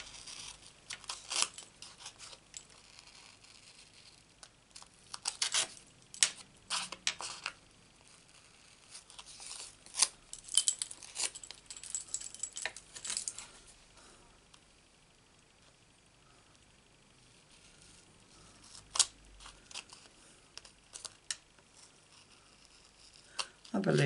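Scissors cut around an embossed paper piece in close, irregular bursts of snipping and crinkling paper, with quiet pauses between the cuts.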